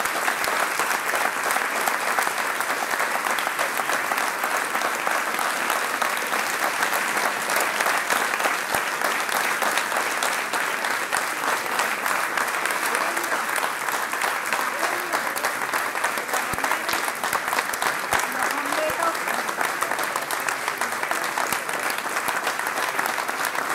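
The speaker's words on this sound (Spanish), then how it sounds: "Yo quiero que ahora hagamos un gran aplauso por la nieta recuperada número" A large audience claps steadily and densely for about 24 seconds at a tribute event honoring a recovered granddaughter, the applause even and sustained throughout with no speech over it.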